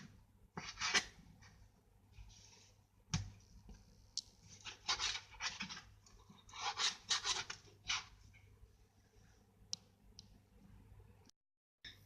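Knife slicing a meat cutlet on a board for a vegetable pizza: intermittent close, soft scraping and rasping strokes in irregular bursts with small clicks, quiet, and no talking.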